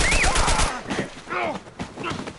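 Gunshots in The Last of Us video game, heard as a loud rapid burst at the start, then a series of further shots and echoes mixed with voices.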